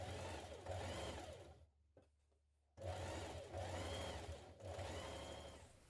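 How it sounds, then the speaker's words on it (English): A sewing machine understitches the neck facing seam of a McCall's 7357 blouse: two steady runs of rapid mechanical stitching, separated by a short pause with a faint click, close and clear. "Now understitch your seam to your facing piece"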